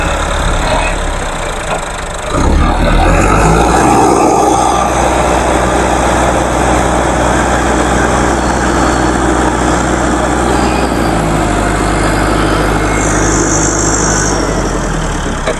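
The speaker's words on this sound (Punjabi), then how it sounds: "ਟਰੈਕਟਰ ਦੀ ਮਦਦ ਨਾਲ ਉਹਨੂੰ ਮਜ਼ਬੂਤ ਕਰਦੇ ਪੈਣ," A tractor engine works at a river embankment during flood conditions, giving a loud, continuous rumbling drone that swells after a couple of seconds and then holds steady. No one speaks.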